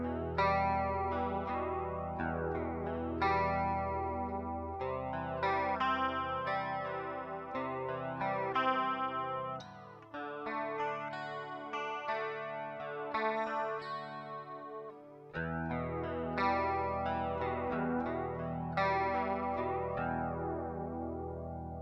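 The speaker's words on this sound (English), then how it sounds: "Playing through a jazz chorus amp right now with a built-in chorus, and I'll go ahead and turn it on and show you what that sounds like" Electric guitar played through a Jazz Chorus amp with its built-in chorus switched on, shimmering, wavering arpeggiated chords ringing clearly with a brief pause midway before the strumming resumes.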